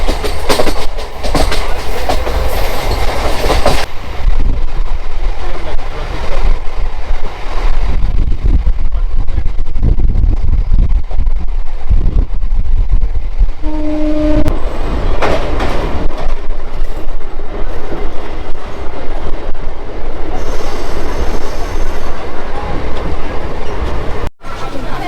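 A passenger train rolls steadily along the rails on a morning journey toward Deoghar, Jharkhand. A continuous rumble and clickety-clack run throughout, with a brief squeal of the wheels near the middle and faint voices in the carriage.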